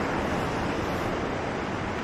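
Sea waves wash steadily beside a coastal cliff path on Nusa Penida, a continuous broadband surf roar with some wind buffeting the microphone. The sound stays even throughout, with no one talking.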